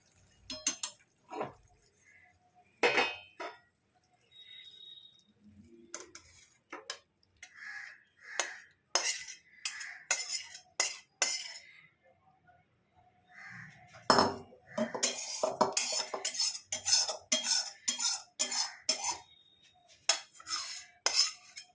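Ridge gourd bora curry being transferred from a pan into a serving dish with a metal utensil, heard as scattered sharp clinks and scrapes that come in quick clusters between quiet pauses.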